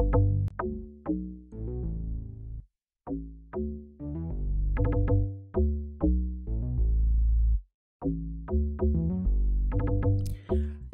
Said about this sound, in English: we also added a logdrum to complement our bassline.